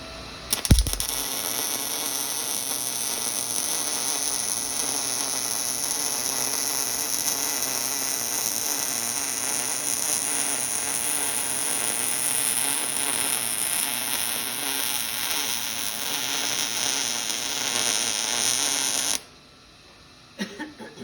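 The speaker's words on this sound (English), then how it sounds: "Again, there's many ways to weld this up." Metal pieces for an emu sculpture structure are welded in one long continuous run, a steady close buzzing crackle that holds evenly for about twenty seconds and then cuts off.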